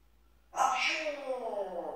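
A pet talking parrot in a Turkish home gives a single sharp sneeze-like burst that trails off into a breathy, voiced tail, close and alone without talk.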